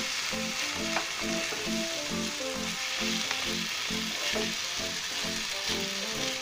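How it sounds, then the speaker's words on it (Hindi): Rice roasts in a pan for shahi pulao, a steady close sizzle and crackle with soft stirring scrapes in a regular rhythm, no talk. "एक दो मिनट अच्छे तरीके से आप इन्हें सेक लीजिए।"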